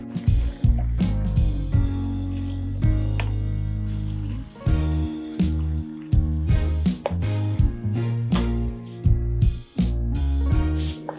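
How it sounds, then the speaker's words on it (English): Tomato paste stirred into a simmering butternut squash pasta sauce, with thick wet squelches and sticky slaps from a spoon in a rhythmic series of close, loud strokes, with brief pauses and no talking. "Just stir that in and let that cook also with it."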